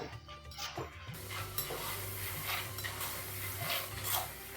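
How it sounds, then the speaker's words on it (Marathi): Dal frying in hot oil for a crispy Diwali poha chivda, giving a steady, continuous sizzle with faint clinks from a pan or utensil throughout. "डाळं ऑलरेडी फुलवलेलं असतं त्यामुळं अगदी एखाद्या मिनटामध्येच ते तळून होतं"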